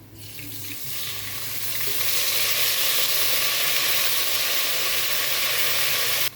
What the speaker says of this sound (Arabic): اخد الثوم اللون الذهبي الخفيف ده، هنزل عليه بربع كوبايه من الخل